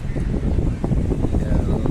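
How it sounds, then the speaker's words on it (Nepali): A steady rush of wind roars against the microphone throughout, low and constant, with no clear voices. "हावा आयो, हावा आयो"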